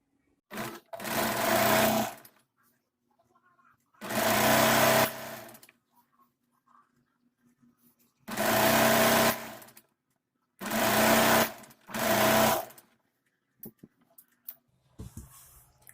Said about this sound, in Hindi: तो चलिए इसी तरह से दोनों साइड आसन में सिलाई लगा लेते हैं